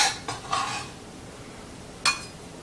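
Food being tipped into a bowl while roasted Harris carrots with farro are prepared: a few brief dish-and-utensil clinks and scrapes in quick succession, then a pause and one more sharp clink, close and fairly quiet.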